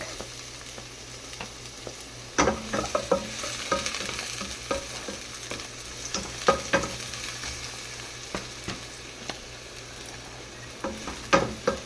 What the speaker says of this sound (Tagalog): Lagyan natin ating garlic.